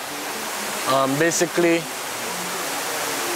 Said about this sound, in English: this is the Seven Sisters Waterfalls